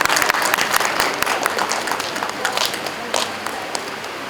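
Audience at a college NAAC celebration applauding, a dense round of clapping that holds steady and fades slightly toward the end.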